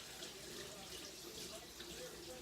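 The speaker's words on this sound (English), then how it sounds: "Quick, another wash of my hands." Tap water runs steadily into a kitchen sink during a quick hand wash while cooking, a soft continuous hiss and splash heard close but fairly quiet.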